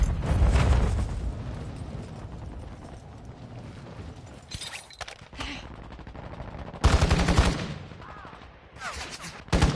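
Gunfire in the video game Crow 3.1, sharp bursts of shots that come in loud clusters with gaps between them, set against busy game background noise.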